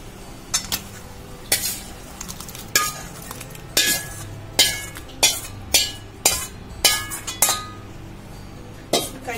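Metal utensils clink and scrape against pots while a tadka is added to dal dhokli in a kitchen, a series of sharp, close taps that fall into a steady stirring rhythm, with no talking.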